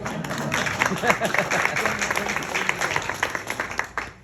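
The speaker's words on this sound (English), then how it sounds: "You can clap if you want to." Audience applause in a township auditorium town hall, a steady wash of many hands clapping at moderate level with some voices and murmuring mixed in, fading out at the end.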